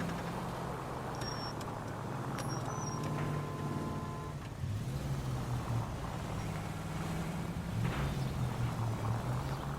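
A car in the video game L.A. Noire is driven recklessly, its engine droning steadily and shifting pitch as it speeds along, with a continuous rumbling roar throughout.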